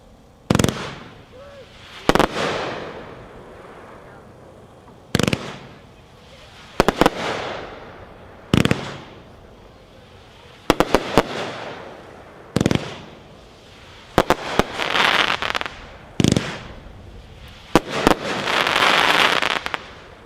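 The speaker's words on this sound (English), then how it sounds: "Number 4, Invincible by Most Wanted, again from that 1-4 Armed and Dangerous assortment, 25 shots." Invincible, a 25-shot firework cake by Most Wanted from the Armed and Dangerous assortment, fires sharp, loud booming shots at irregular intervals. Crackling bursts build into a denser flurry near the end.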